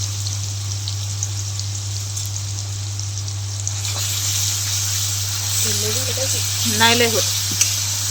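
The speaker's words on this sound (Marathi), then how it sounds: "आणि मसाला भाजण्यासाठी इथं तेल तापाय ठेवले." Spice masala roasting in hot oil in a home kitchen, a steady close sizzle and crackle under a constant hum, with people talking briefly toward the end.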